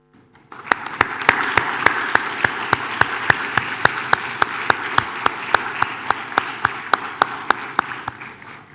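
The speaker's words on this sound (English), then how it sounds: "give a good round of applause in appreciation of their unwavering support and commitment" Convocation graduates clap together in a hall to honour their parents, a tight unison beat of sharp, evenly spaced claps over a softer bed of scattered applause, starting after a brief quiet moment.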